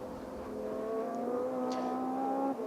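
A Radical race car at the Estoril circuit sweeps past, its high engine tone rising steadily over about two and a half seconds, close and clear with no talk.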